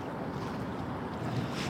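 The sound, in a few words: wind blowing on a beach in Seoul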